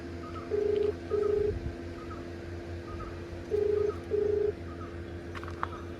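A phone call rings out in paired ringback tones, two short bursts, a pause, then two more, fairly clear over a low steady background hum with faint birdsong.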